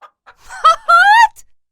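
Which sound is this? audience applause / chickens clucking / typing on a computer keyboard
chickens clucking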